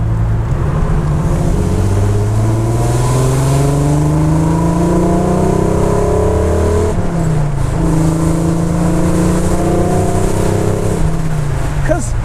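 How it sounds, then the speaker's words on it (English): A TVR S3 sports car drives along a very bumpy road, its engine droning loud and close from inside the cabin, with the pitch rising and falling as it accelerates and shifts, and the rough ride adding a continuous rumble. "We are driving down a ridiculously bumpy road."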